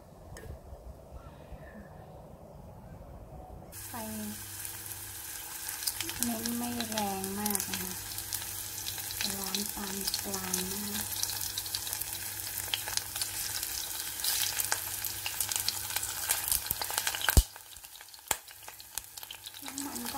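Sun-dried pork is dry-fried and stirred in a pan for homemade pork floss, a steady crackling sizzle that starts abruptly after a quieter opening, with a soft tonal hum and a sharp knock before it cuts off.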